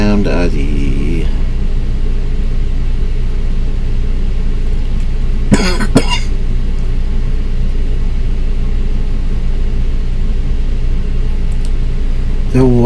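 A man coughs a few times, with a short burst at the start, another pair of harsh coughs midway and one more at the end, close and loud over a steady low rumble.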